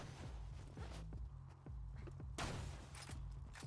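Gunfire in Borderlands 2 as bottles are shot, a rapid run of sharp close cracks with a heavier burst midway, continuous and fairly loud.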